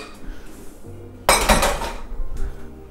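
Leftover lasagna noodles tossed into a skillet, landing with a loud close clatter and metallic rattle of the pan that settles quickly, then a faint second clink.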